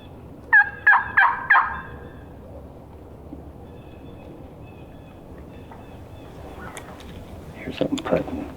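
Wild turkeys gobble in a quick burst of three loud, rattling calls close by, followed by quiet outdoor ambience, faint rustling and a person speaking softly.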